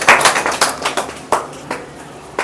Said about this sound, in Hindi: तालियां बजती रहनी चाहिए, तालियां नहीं रुकनी चाहिए।